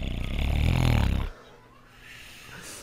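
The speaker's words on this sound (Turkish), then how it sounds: "Horlama sesine bakın." Loud cartoonish snore from the Neighbor character in the mobile version of the Hello Neighbor video game, one long rasping breath that cuts off into quiet room tone with a faint softer breath afterward.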